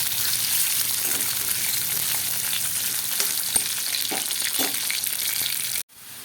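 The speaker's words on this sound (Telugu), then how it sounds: "తర్వాత మనం ఉప్పులో పిండుకున్న కాకరకాయ ముక్కల్ని ఈ నూనెలో వేసేద్దాం." Bitter gourd pieces, squeezed in salt, frying in oil, a steady close sizzle with occasional stirring clinks, continuous until an abrupt cut near the end.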